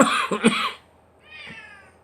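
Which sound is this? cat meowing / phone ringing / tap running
cat meowing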